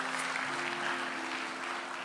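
A church congregation applauds during a sermon, a short, dense wash of clapping from many hands with a faint steady hum underneath.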